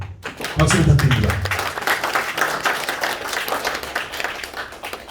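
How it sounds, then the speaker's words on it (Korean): An audience at a Korean theatre awards ceremony claps for a recipient of a cultural merit medal. The applause swells in quickly, then continues steadily and moderately loud, with a voice briefly audible near the start. "박수 부탁드립니다."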